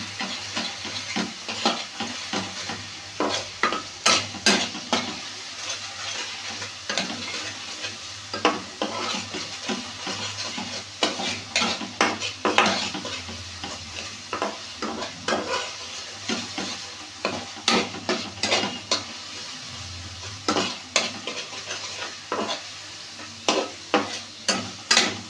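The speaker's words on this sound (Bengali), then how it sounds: "আদা রসুনের পেস্টটাকে মিডিয়াম ফ্লেমে খুব ভালো করে ভেজে নিতে হবে।" Ginger and garlic paste fries in a pan over medium flame, a steady sizzle broken by repeated scraping stirs of a spoon against the pan.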